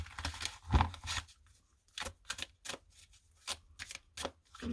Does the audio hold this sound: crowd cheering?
no